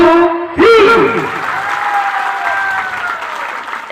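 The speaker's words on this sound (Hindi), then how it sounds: "1 2 3 पर आपण माने ताली मारबे।" Hands clap together in a loud, steady burst of applause from a large live audience at a hosted stage event, starting abruptly after a voice counting in and sustaining as a dense wash that slowly thins out.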